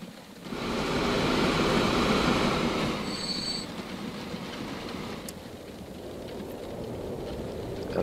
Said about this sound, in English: The other train is coming here.